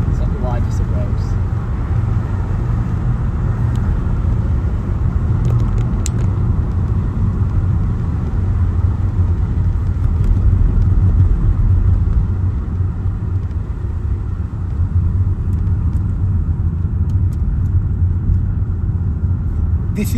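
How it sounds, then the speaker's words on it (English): A car drives along a wide road on a driving test route in Horsforth, its engine and tyre rumble steady and close throughout, with a faint rise as it accelerates under a background voice. "I keep accelerating until I see a junction, then I ease off a little"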